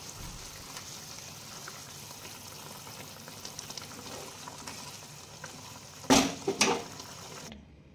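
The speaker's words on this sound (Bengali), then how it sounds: "দেখুন ঝোলটা ফুটছে" Banana kofta curry gravy bubbling in a pan, a soft steady simmer with faint popping, followed near the end by a couple of louder clattering stirs or pours before it cuts off.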